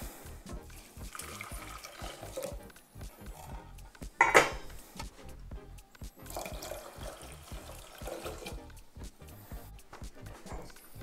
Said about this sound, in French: Je vais lui ajouter 1 litre d'eau